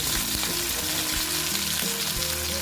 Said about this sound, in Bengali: কড়া করে ভেজে নিয়েছি দেখো যদিও আমি সর্ষে দিয়ে করব তবুও আমি একটু কড়া করে ভেজে নিয়েছি